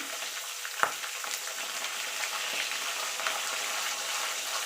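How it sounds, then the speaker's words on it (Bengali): A fish head frying in a pan with salt and turmeric gives a continuous close hiss of sizzling oil, broken by an occasional clink or scrape of stirring. "হলুদ গুঁড়ো দিয়ে এটাকে আমি ভালো করে ভেজে নেব"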